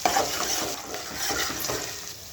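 Onion, ginger paste and green chillies stirred in hot oil with mustard seeds, close frying hiss broken by repeated soft scrapes of a spoon against the pan, no voices.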